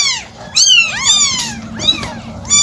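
A pregnant cat in labor meows repeatedly: four loud, drawn-out, wavering cries close by, separated by short pauses.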